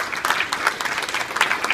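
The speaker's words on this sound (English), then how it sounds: "Can we give him a round of applause, please?" Audience applause for a public servant at a Seventh Day Adventist church event, a steady dense patter of many hands clapping at once, moderately loud and continuous, with no voices over it.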